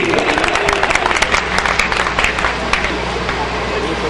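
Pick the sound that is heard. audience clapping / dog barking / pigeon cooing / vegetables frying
audience clapping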